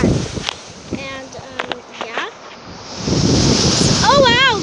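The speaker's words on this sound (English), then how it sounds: "Oh wow, guys, it's windy again." Wind buffets the microphone in a steady rushing roar that grows stronger toward the end, with brief speech and a few scattered sounds early on.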